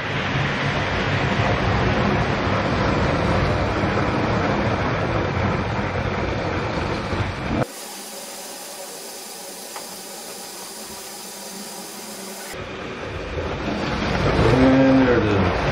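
A model train locomotive running on a test track gives a steady, loud rumbling clatter that cuts out briefly to a quieter hum, then returns and swells near the end.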